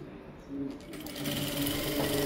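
A sewing machine stitches plain fabric, its motor hum steady and close, starting after a brief pause and running on under a voice.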